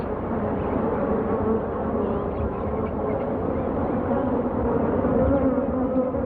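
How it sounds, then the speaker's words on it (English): A dense, continuous buzzing of many bees at an acacia tree in Tanzania, steady and close, humming without pause. "Bees move in, and weavers move out."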